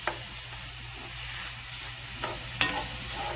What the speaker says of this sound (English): But I'm going to just stir that and let all of that cook down with all of that flavorful goodness.